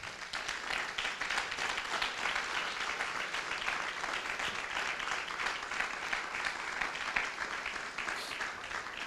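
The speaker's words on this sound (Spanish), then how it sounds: "Vamos a aplaudir la presencia de Dios nosotros." A church congregation claps together in a sustained, even round of applause that stays dense and steady for about nine seconds with no talking.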